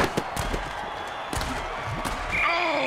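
Hard thumping tackle impacts ring out in the Mutant Football League video game, several sharp thuds over a steady crowd roar that swells toward the end.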